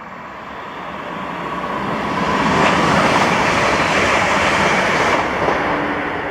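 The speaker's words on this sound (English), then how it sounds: "So this was 1M96, the 11:30 Transpennine Express service to Manchester Airport from Glasgow Central." A Transpennine Express passenger train bound for Manchester Airport passes through Carluke, giving a loud, broad rolling roar that swells and stays steady, heard close by with no voices.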